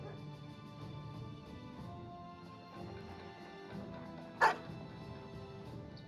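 Within a video game, a single short dog bark stands out once, fairly near, against a low steady background of ambient game music and sound.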